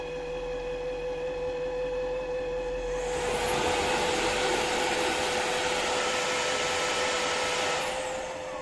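An Ultenic U12 Vesla cordless wet-dry vacuum cleaner starts its brush self-cleaning cycle on the dock. After a quiet hum, a steady high-pitched motor whine kicks in and holds for several seconds before winding down at the end.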